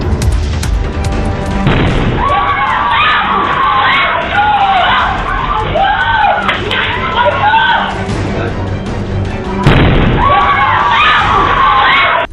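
A gas cylinder explodes from an electrical leak in Tiruppur, giving deafening booms and crashing blasts against steady broadband roar, with a second burst near the end and crowd noise underneath.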